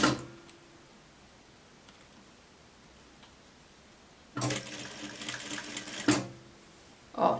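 A sewing machine stitching fabric for a beginner's inset pocket, running in one steady burst of close, loud mechanical whirring for about two seconds midway, with a brief restart at the end after a quiet stretch.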